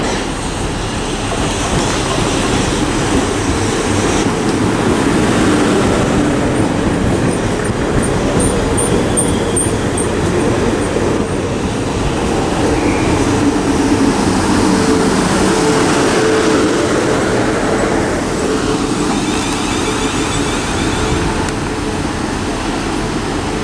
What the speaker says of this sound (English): This is formed of a 450, this will be the 12:44 to Portsmouth and Southsea.